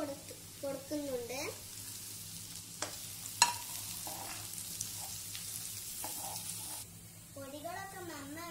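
Onions, carrots and capsicum frying in a pan, a soft steady sizzle with occasional stirring clatters, faint and close, while a voice speaks at moments.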